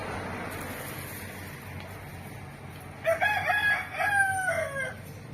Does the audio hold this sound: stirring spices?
no